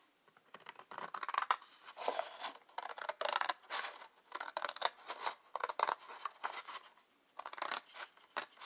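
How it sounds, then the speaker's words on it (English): Steady scissors snipping along a pencil line through scrapbooking paper, a quick run of crisp cuts with brief pauses, close and clear with no talking. "we're going to take our scissors and we're going to just cut right down this pencil line"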